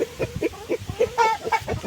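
Chickens cluck in a steady run of short, close calls, one bird briefly rising into a higher squawk partway through.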